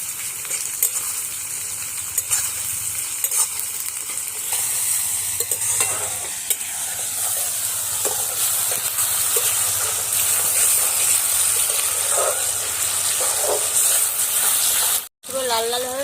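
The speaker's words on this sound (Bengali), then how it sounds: "এগুলো দিয়ে ভালোভাবে আগে ভেজে নিতে হবে।" Lote fish frying with ginger-garlic paste and tomatoes in a pan, a steady sizzle with repeated scraping and stirring strokes, loud and close, with a brief clatter near the end.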